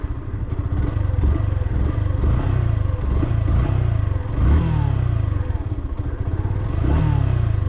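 A Yamaha FZ S v3 fi ABS motorcycle being ridden, its engine a loud, close, steady drone with rhythmic pulsing and a few rises in revs, no talk over it.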